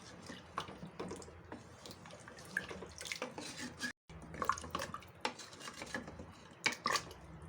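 Roughly 1.5 litres of water pour into a cooking pot holding beef trotters for paya, a soft splashing trickle with small clinks and one brief break midway, with no talk over it.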